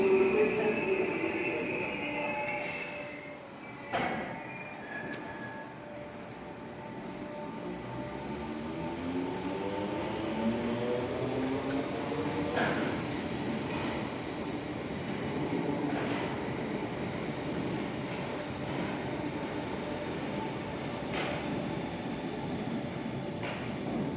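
A train rumbles into platform 1 of a station and slows, its wheels letting out rising, drawn-out metallic squeals over a steady low roar, with no talking.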